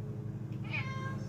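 A cat gives a single drawn-out meow, close and clear, rising then sliding down, over a steady low hum in a home.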